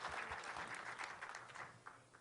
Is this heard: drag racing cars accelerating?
no